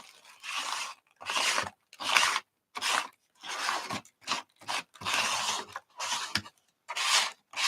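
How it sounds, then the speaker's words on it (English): Paint being scraped across an art journal page, heard as a series of close, dry scratchy strokes in short bursts with pauses between them, no talking. "Let's do some scraping here."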